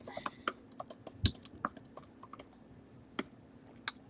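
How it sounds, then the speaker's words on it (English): Fingers tap out a short burst of typing on a computer keyboard, with irregular close, crisp key clicks and one heavier keystroke, quiet and with no one talking. "I am going to type in a poll."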